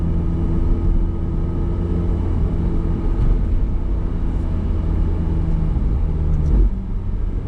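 Ferrari F8 Spider V8 engine on a track drive, a steady deep drone heard from inside the car, with a quick blip and pitch drop of a downshift near the end.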